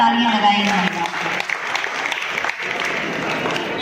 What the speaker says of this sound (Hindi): इसलिए जोरदार तालियां लगाई महिलाओं।